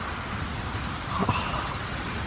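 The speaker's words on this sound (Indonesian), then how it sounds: "Paksi, aku mendengar suara hujan." Steady rain hisses from a distance, a soft, even patter with a faint low rumble swelling briefly near the middle.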